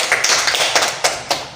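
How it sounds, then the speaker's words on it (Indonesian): A short burst of clapping in applause for a student named Caca, with several distinct claps and taps at an uneven rhythm, fairly close and loud, with no talk over it. "Bagus, beri tepuk tangan sama Caca."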